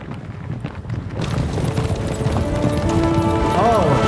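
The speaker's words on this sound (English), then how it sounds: "That's a lot of horses." Many horses' hooves clip-clop in the video game Kingdom Come Deliverance II, a dense, fast patter that grows louder after the first second, with a brief whinny near the end.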